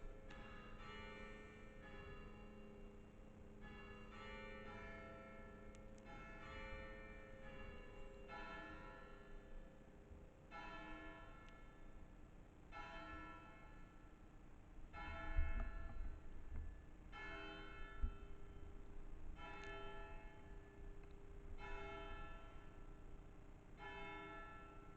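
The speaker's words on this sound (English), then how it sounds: "And there we have the bells." Church bells of St Remigius in Long Clawson, Leicestershire, ringing in a steady repeating pattern of overlapping rounds, heard distant and faint, with a couple of soft low bumps nearby.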